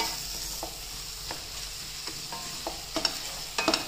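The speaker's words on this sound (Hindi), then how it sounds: "सभी को अच्छे से भून लेंगे मसालों को।" Spices, tomato and green chili for baingan bharta stirred and frying in a pan, a soft steady sizzle broken by scraping spoon strokes that grow louder and more frequent toward the end.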